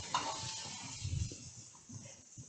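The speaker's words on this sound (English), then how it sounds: "So my vegetables have been frying away for a few minutes." Vegetables for mi goreng noodles sizzle steadily in a hot pan, with soft stirring and scraping sounds mixed in, close up and continuous.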